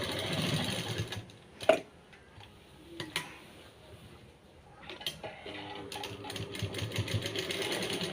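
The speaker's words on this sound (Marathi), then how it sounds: "आणि इथून डबल शिलाई घ्यायची." Sewing machine stitching a double seam to attach a pocket onto a maxi dress, running in steady mechanical bursts with a couple of sharp clicks and pauses between runs, close and fairly loud.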